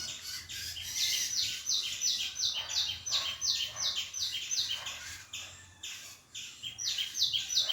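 Drongo calls ring out in a village setting, a steady run of bright, repeated chirping phrases close by with short pauses between bursts, over faint background ambience.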